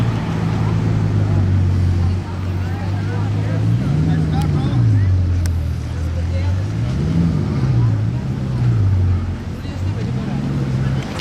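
Bugatti Chiron with its W16 engine, a loud steady low drone that rises and falls in pitch as the revs swell, running continuously close by with talk over it.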